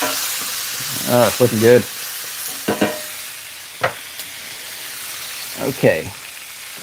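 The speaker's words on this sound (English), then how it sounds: "Let's give these another little stir there. Make sure we're not burning one spot." Pico de gallo sizzling in a pan and stirred a few times, with soft scraping bursts over a low sizzle while a person speaks briefly.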